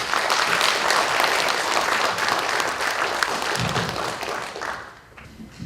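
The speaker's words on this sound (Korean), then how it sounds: "아드리안 데이비드 척 교수님을 따뜻한 박수로 환영해 주시기 바랍니다." An audience at a Digital Media City anniversary keynote event applauds warmly to welcome a speaker, a dense, loud wash of clapping that holds for about four seconds and then fades away.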